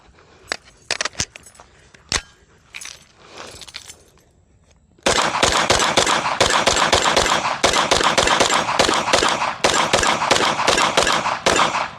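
A CZ Scorpion EVO 3 Micro fires a rapid string of loud, sharp shots outdoors, running out a full magazine after a few scattered metallic clicks and handling sounds.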